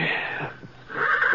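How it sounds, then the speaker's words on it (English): A horse down in a corral gives an agitated, wheezy whinny that rises, dips, then swells again over about a second, heard fairly close in a radio western drama scene. "One of the horses down the corral was sure upset about something."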